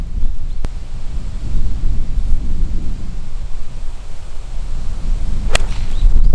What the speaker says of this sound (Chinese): 风从那边灌进来。